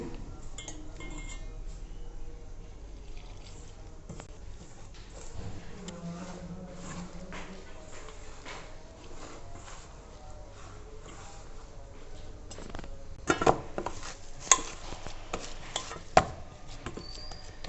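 Bathua paratha dough with chili and coriander is mixed and kneaded by hand in a bowl, with soft steady stirring and scraping and occasional bright clinks against the bowl, close and quiet throughout.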